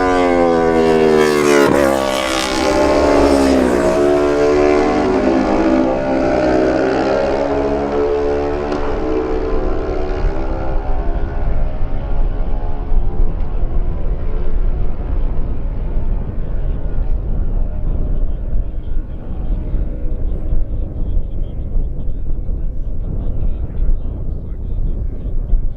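Kawasaki lightweight race motorcycles scream past on a road circuit, a loud high-revving engine note sweeping down in pitch as the bikes pass close, then fading into a distant drone with some background noise.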